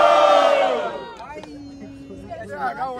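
A crowd at a freestyle rap battle in Itaquera erupts in a loud cheer that quickly fades, leaving scattered voices and chatter.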